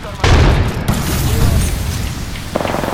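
A grenade explodes in the Apex Legends video game with a loud, close boom and a rumbling tail, followed by a smaller burst near the end.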